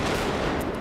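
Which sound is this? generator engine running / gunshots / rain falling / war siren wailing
gunshots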